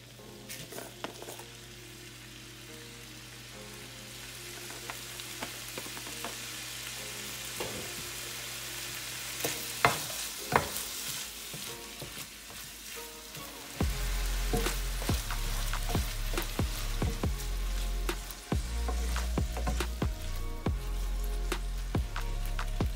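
Ground meat for sloppy joes fries in a pan while being stirred, a crackling sizzle with scattered pops and scraping that grows louder and denser partway through, no speech.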